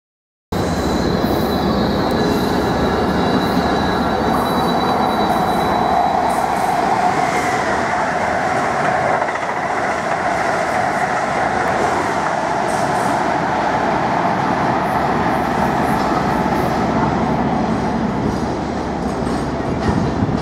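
A passenger train rumbles loudly and steadily nearby, wheels squealing faintly and rails clicking as it rolls into a station.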